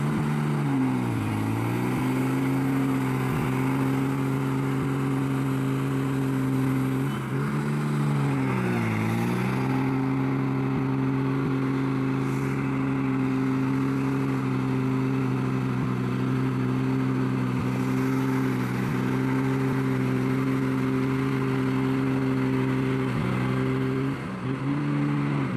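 A heavy bus engine roars and strains under load, its low drone dipping and recovering several times as the tires claw for grip, loud and continuous with no voices.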